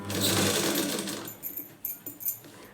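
Close and fairly loud, a sewing machine stitches a blouse in a quick run lasting over a second, then slows into a few short, uneven bursts of stitching.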